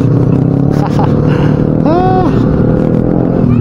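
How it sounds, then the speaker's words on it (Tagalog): A big group of motorcycles on a charity ride drone loud and close in a continuous engine rumble, with a brief higher tonal whine rising and falling partway through. "Grabe, ang daming motor"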